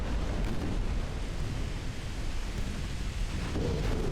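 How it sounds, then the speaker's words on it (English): A massive explosion in the naval battle game Ultimate Admiral: Dreadnoughts, as a warship is hit by torpedoes: a loud, sustained rumbling roar filling the whole clip with heavy low-end boom, without any talk. "that was a massive explosion"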